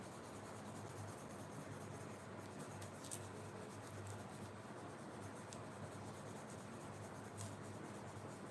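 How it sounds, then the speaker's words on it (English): A blue colored pencil shades across paper during scrapbooking, a soft, continuous dry scratching that holds steady for several seconds with a few faint sharper strokes, close and quiet with no voices. "look at this pencil and look at how it colors."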